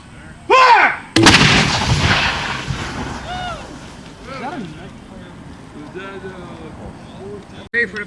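A Civil War cannon fired at a reenactment event at French Azilum, one loud close boom followed by a long rumbling decay, with people talking before and after.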